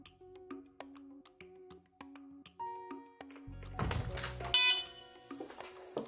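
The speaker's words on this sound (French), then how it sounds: "Les bips que vous entendez sont ceux de mise en garde sur une détection retardée" A Delta Dore Tyxal+ wireless home alarm emitting its warning beeps for delayed detection, a series of short electronic tones at irregular intervals with a brief noisy burst partway through, close and clear, with no talking.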